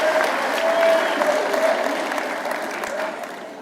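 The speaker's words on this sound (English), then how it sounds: "Can we have a round of applause?" An audience applauds coaches and athletic trainers at a school awards ceremony, a dense, steady wash of clapping from a crowd that slowly tapers off.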